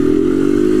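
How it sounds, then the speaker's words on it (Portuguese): A black Honda Fan 160 motorcycle running without its air filter gives a loud, steady, close engine drone with a rough buzzing tone and no break. "Lá vem a moto, cê é doido."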